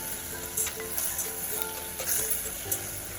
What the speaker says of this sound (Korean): 이제 삼겹살이 살짝 익었으니까 불을 좀 높여서 삼겹살이랑 파를 볶아주겠습니다.